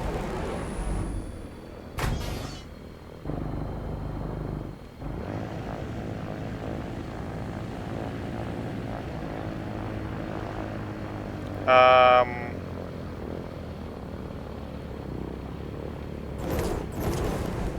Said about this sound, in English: Let's see how bad this controls now.